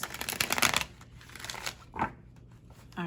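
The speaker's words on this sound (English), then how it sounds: "Shuffle the mess out the cards." Tarot cards shuffled by hand in a series of quick riffling, papery bursts, close and fairly soft, with brief pauses between shuffles and no talking.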